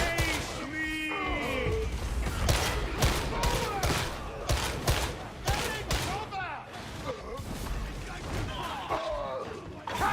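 Heavy shotgun blasts boom repeatedly in a video game, several loud, close shots scattered across the stretch amid crashes, with players talking excitedly over them.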